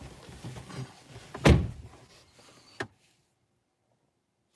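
A car door thumps shut once, a sharp close solid knock after a stretch of low rumbling cabin noise, with only quiet stillness following.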